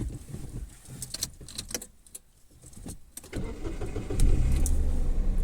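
A small, low-slung car's engine is cranked and restarts after stalling in deep snow, the starter whirring briefly before the motor catches and settles into a steady close idle.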